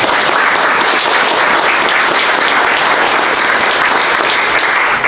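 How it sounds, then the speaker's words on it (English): A crowd at a ghost town talk gives the speaker a big round of applause, producing a loud, dense, continuous roar of clapping that stays steady throughout. "Let's give him a big round of applause."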